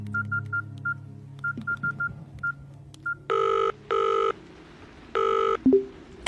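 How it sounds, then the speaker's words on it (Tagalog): Cellphone keypad tones beeping in a quick irregular run of short presses, followed by several longer ringing tones, heard alone and fairly quiet. "Tinawagan ko ulit siya sa cellphone."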